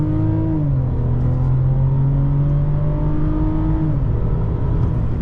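A 2019 Mercedes-Benz CLS450 4MATIC accelerates, heard from inside the well-insulated cabin as a smooth, steady engine hum whose pitch rises, eases back with a gear change, then climbs again, with no talking.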